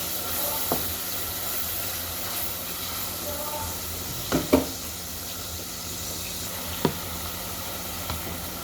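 Onions frying in a pan for a bottle gourd and hilsa curry, a steady close sizzling hiss with a few sharp clicks and knocks of utensils.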